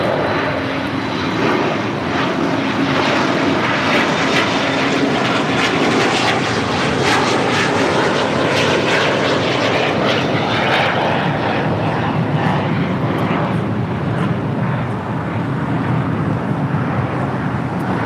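Aircraft engines roar steadily at LAX, a loud continuous drone with broadband rumble filling the whole span, no voices heard.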